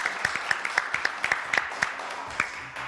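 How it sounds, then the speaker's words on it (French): Rhythmic clapping, a series of evenly spaced claps close by, fading out at the end. "que je vous demande d'applaudir très très fort"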